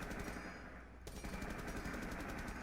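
Sustained automatic gunfire in the Rainbow Six Siege video game, a dense, loud, continuous rattle of rapid shots that dips briefly near the one-second mark before resuming at full intensity.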